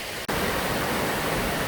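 Moss waterfall at the head of a mountain valley with autumn foliage: a steady, loud, broadband rush of falling water fills the clip, with one very brief dropout near the start.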